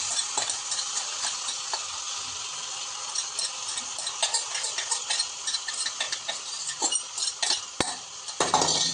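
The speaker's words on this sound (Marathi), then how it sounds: "जरा असं जरा फिरवायचं चमचा" A spoon stirs cooked Maggi noodles in a pot, giving close, repeated metallic clinks and scrapes in an uneven rhythm, with no talking.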